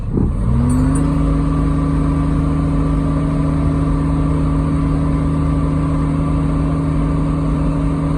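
A Kubota X1100c utility vehicle running in low range, its engine settling into a steady, loud drone with strong low harmonic hum after a brief rev at the start, continuous and close throughout.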